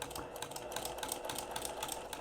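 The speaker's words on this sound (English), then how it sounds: "I'm going to stitch right on the edge here" Sewing machine running steadily as it stitches along the edge of a pillowcase with light-colored thread at a 2.5 stitch length, a fast, even mechanical whir with rapid ticking, fairly quiet and continuous, no voices.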